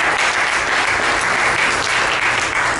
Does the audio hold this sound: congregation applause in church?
yes